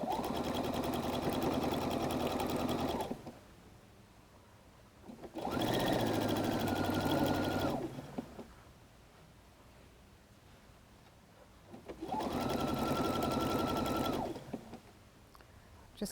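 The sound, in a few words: sewing machine stitching a clothesline rope basket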